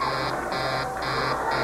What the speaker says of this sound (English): there's that buzzer again